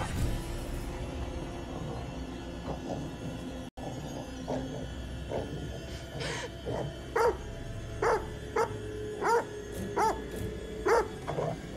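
A dog barking in the horror video game The Devil in Me, a series of repeated barks in a loose rhythm over a rumbling ambient backdrop, growing more frequent toward the end.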